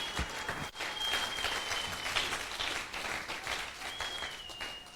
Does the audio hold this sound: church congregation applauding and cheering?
yes